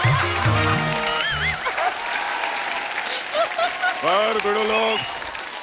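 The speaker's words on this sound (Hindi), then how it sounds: "मेरे लिए ताली मत बजाओ बिड़ो, इन लोग के लिए बजाओ।" Studio audience applause at a live comedy talk show taping, a steady broad clapping wash running the whole stretch beneath a voice speaking loudly over it.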